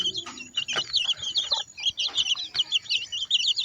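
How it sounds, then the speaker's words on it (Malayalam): A hen clucks low among nine chicks in a coop bedded with sawdust over sacking, while the chicks keep up a dense, continuous high peeping close by. "ഒൻപത് കുഞ്ഞിക്കോഴികളും ഒരു വലിയ കോഴിയുണ്ട്"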